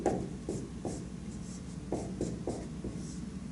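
Pen or marker strokes write out matrix working by hand, a series of short scratchy scrapes in an uneven rhythm, close and fairly quiet with no speech.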